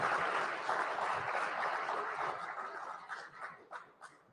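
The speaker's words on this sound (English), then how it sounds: "A round of applause for the speakers, please." An audience applauds conference speakers after a panel session at India Today Conclave South 2023, with broad steady clapping that thins out toward the end, a few scattered claps and faint chuckles remaining.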